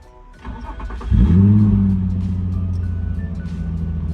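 A Nissan 350Z cranks briefly and then catches. The engine flares up loudly and settles into a steady, close idle with no belt squeal.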